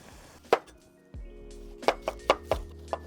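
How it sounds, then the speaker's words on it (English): Onions are chopped into quarters on a board with a handful of sharp, close knife chops spaced irregularly, over a low steady hum from something cooking in the background. "Just kind of halving these onions and giving them another half so they're quartered"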